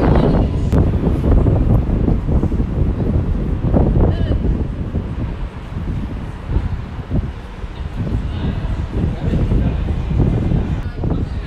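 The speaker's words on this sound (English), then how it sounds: "It's very windy." Strong wind buffets the microphone outdoors at an anime convention, a loud continuous rumbling roar with gusty surges throughout.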